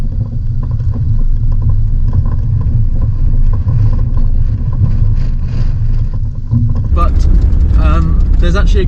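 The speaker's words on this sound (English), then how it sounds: "It really is windy," Strong wind buffets the microphone in a constant roar, with low rumbling and a voice speaking briefly near the end.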